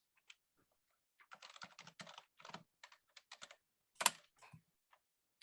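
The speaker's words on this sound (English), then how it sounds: "I'm going to start typing this out on my machine" Quiet typing on a computer keyboard comes as irregular bursts of soft key clicks with short pauses between them and one slightly louder keystroke near the end, all in a silent room.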